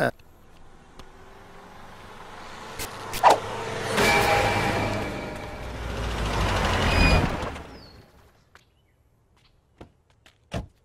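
A car engine swells as the vehicle approaches and runs close by for a few seconds, then fades out, leaving a quiet space with a few sharp knocks and clicks.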